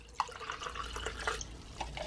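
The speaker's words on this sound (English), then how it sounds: "just add the water inside." Water is poured into an aroma diffuser, giving a soft trickle and light dripping with a small splash at the start, faint and close, with no talking.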